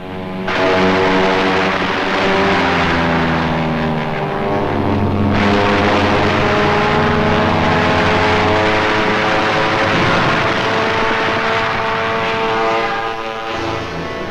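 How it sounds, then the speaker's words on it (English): A WWII Spitfire fighter plane roars past with a loud, sustained propeller-engine drone that swells and shifts in pitch over about fourteen seconds, with no voices. "Spitfire."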